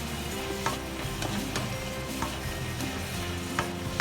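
Tofu and ginger stir-fry in a pan with a continuous soft sizzle and occasional spatula scrapes and taps against the metal, fairly quiet and close.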